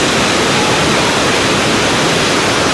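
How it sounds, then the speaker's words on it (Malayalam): Giessbach waterfall pours into Lake Brienz with a loud, steady roar of rushing water that stays dense and unbroken from start to finish, close by and with no voices. "നല്ല ഒച്ചയാണ് വെള്ളത്തിൻ്റെ."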